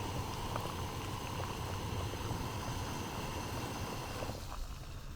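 Water boiling in a Jetboil camp stove outdoors, a steady loud rushing roar of burner and bubbling throughout, easing slightly near the end.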